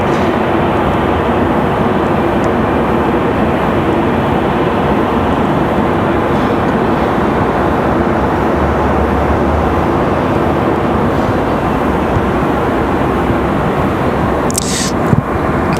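ATR turboprop aircraft at Raleigh Durham airport, a loud continuous engine drone holding steady and close for the whole stretch, with a brief clatter near the end.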